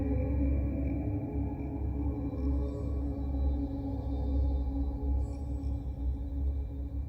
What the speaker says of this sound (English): And add a shit ton of reverb.